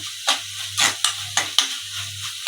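Garlic-ginger paste frying in a pan for an Agri-style octopus masala, with a steady low sizzle broken by several sharp scraping stirs of a spoon, close and fairly loud.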